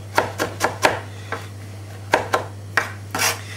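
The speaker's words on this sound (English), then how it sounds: "Keep chopping and chopping" Knife chopping parsley on a board while preparing rack of lamb, a series of quick, close, sharp chops in uneven bursts, with a steady low hum underneath.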